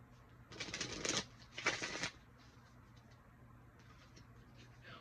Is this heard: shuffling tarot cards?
yes